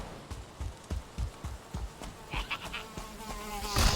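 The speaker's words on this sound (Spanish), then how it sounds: "No, los mosquitos estos." Mosquitoes buzz in the Valheim game over a rhythmic run of thudding footsteps, and the whining drone grows louder and closer toward the end, with no talking.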